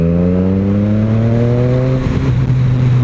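A Triumph Street Triple 765R motorcycle pulls hard in fourth gear from about 25 mph, its engine note rising steadily and loud up close, with rushing wind building toward the end.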